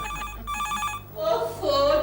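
Indoors, a telephone rings in rapid trilling bursts, moderately loud over a steady background hum, before voices take over.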